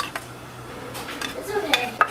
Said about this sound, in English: We're going to stir this.